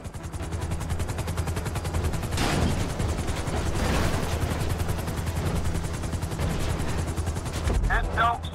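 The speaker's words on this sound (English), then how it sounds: "Bring the chopper down to just above the trailer." Helicopter descending to land in GTA Online, a rapid rotor chop and engine drone running steadily throughout, loud and close, with a brief voice near the end.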